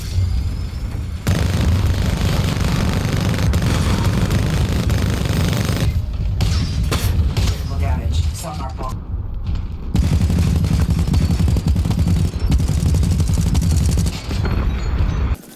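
Titan weapons mounted on tanks in a 2024 shooter video game fire in heavy loud bursts: rapid machine-gun fusillades and booming blasts, with brief quiet gaps between volleys.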